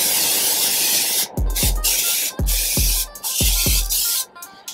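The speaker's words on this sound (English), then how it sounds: "I'm gonna spray this." An olive oil aerosol cooking spray can hisses in several short bursts, each ending with a clicking release, close to the microphone.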